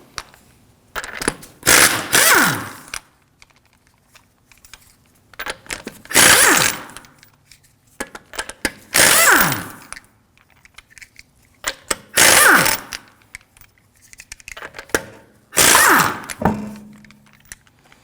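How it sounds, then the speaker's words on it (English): An impact wrench with a 19mm socket removes lug nuts from the front wheel of a 2013-2015 Subaru XV Crosstrek: five loud, separate bursts of rattling air-tool hammering, each a couple of seconds long with pauses between. "To remove the wheel, we're going to use a 19mm socket."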